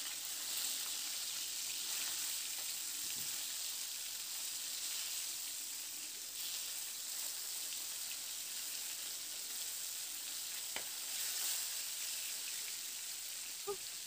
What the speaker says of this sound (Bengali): মাছগুলোকে এপিট এপিট করে ভেজে বেশ লাল লাল রং ধরা পর্যন্ত মাছগুলোকে ভেজে নেব